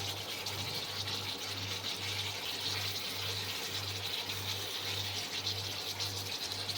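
Water, about one and a half cups, pours into a pot of potatoes and cauliflower for boiling, a soft continuous splash under a low rhythmic hum from nearby.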